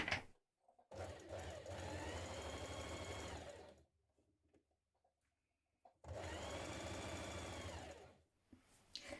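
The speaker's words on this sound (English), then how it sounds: "So we stitch around here first of all, and then we're going to sew the side seam and the underarm all in one movement." A sewing machine stitches a sleeve seam on a t-shirt in two steady, whirring runs of about three seconds each, separated by a quiet pause, close up and with no talking.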